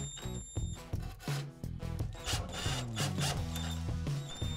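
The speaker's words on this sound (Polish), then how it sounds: "do mocowania użyję ślimaka do płyt GK, który wkręci się w płytę i zapewnia mocne trzymanie" A drywall screw anchor is driven into a polystyrene-like cabinet leg, giving a series of close mechanical clicks, ratcheting and grinding squeaks with uneven rhythm, fairly quiet and with no talking.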